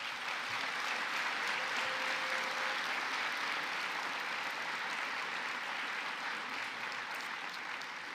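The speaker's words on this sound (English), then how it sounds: "Let's give Ms. Lin a round of applause" An audience at the Ohio University Alumni Awards 2024 ceremony gives a sustained, even round of applause honoring an award recipient, a dense wash of clapping holding steady for the whole stretch without voices.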